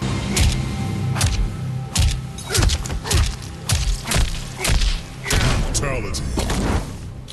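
Exaggerated video-game combat punch effects in the style of fighting games like Mortal Kombat, Street Fighter and Tekken. A rapid series of loud, heavy thuds and cracking smacks hits one after another over a dense, booming background.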